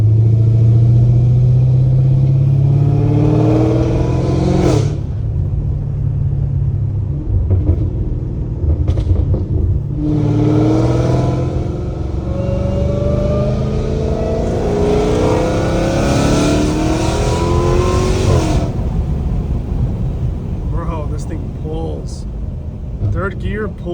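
Straight-piped Dodge Hellcat Redeye roaring hard through the gears, loud close engine note climbing in pitch with each pull, broken by abrupt upshifts around every five seconds, heard from inside the cabin.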